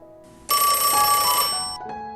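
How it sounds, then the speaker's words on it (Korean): A telephone rings loudly and close with a bright electronic ringtone at an incoming call, a sustained trill that cuts in suddenly and holds for over a second before fading to a softer tone. "마침 걸려오는 엄마의 전화."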